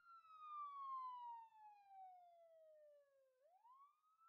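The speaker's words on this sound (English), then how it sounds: "Can you hear the sirens?" A single siren tone sweeps slowly downward, then swoops back up, clear and fairly faint with nothing else around it.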